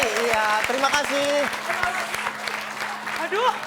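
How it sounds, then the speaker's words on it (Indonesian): A studio audience on an Indonesian comedy show claps steadily while voices talk and exclaim over it, the applause loud at first and easing slightly toward the end. "Kita kasih tepuk tangan dulu dong buat Mbak Tata dan juga Mbak Miati"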